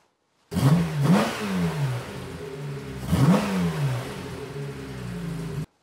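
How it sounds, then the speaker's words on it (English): A vintage Porsche 911 engine is revved by hand at the throttle linkage, two sharp blips rising and falling over a steady idle, loud and close with no voices. "I like to be able to come back here and just grab this thing and rev it up."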